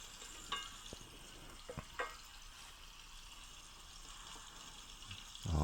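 Seasoned shrimp and sausage browning together in a pan for surf and turf fried rice, a faint continuous sizzle broken by a few soft clicks and taps, with a louder knock at the end.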